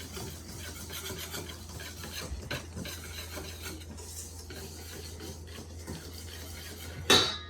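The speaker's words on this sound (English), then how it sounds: "And then I'm gonna whisk that all up really nicely." A whisk scrapes and clinks rhythmically against a bowl of dry ingredients for molasses gingerbread, a steady rasping stir that ends with a sharp metallic tap.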